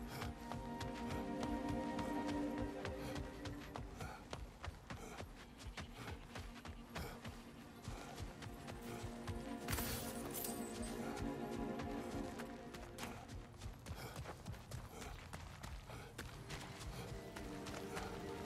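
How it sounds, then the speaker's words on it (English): Footsteps in God of War Ragnarok, a rapid, steady run of thudding steps like clip-clopping hooves, heard amid constant game sound. "are those footsteps I hear?"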